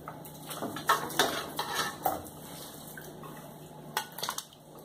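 Chicken pieces go into a pot of water just coming to a boil for chicken pozole, with clattering pot and utensil clinks, light splashes and a steady low simmer, fairly close, no voices.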